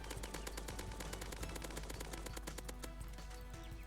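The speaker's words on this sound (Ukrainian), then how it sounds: "Мені треба в нього стріляти." Rapid, continuous bursts of automatic gunfire from the video game Dusty Trip, loud and dense, with overlapping shots and game sound effects.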